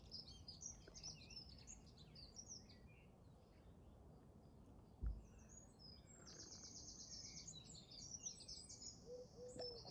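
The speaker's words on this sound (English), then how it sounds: "It almost sounds artificial, doesn't it, those birds?" Several birds sing and chirp at a distance, with bright trills and repeated high notes over a quiet, hissy outdoor background.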